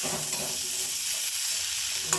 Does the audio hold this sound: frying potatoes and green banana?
yes